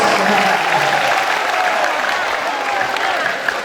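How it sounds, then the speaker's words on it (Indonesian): Applause from an audience at a Ramadan religious lecture, loud, dense and steady for the whole stretch, with a faint voice under the clapping. "Oh, boleh tepuk tangan"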